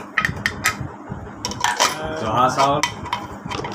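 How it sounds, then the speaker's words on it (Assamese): Dishes and cutlery clatter as cooked rice is taken out of a pressure cooker, with close metallic clinks and scrapes of pots and spoons in irregular bursts. "এয়া আমাৰ কুকাৰত ভাত উলিয়াইছোঁ অ'পেন কৰিছোঁ"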